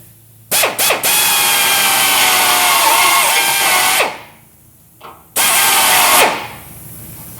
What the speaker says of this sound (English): I'm just using a little step bit and just went up one size over it.